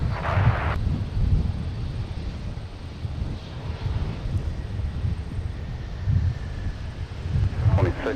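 A fixed-wing airliner landing at Minneapolis–Saint Paul airport gives off a steady, broad engine rumble with wind buffeting on the microphone. It sounds moderately distant and continuous throughout.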